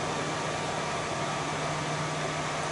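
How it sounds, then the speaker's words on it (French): A 3D printer runs nearby while a small programmable RGB keyboard is being printed, giving a steady, even mechanical hum and whir that stays constant throughout with no talking. "vous entendez peut-être mon imprimante 3D"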